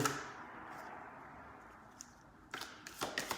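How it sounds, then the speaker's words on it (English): A deck of tarot cards being shuffled: a soft swish at the start fades into near quiet, then several quick papery riffles and taps follow close by. "I'm gonna shuffle these real good."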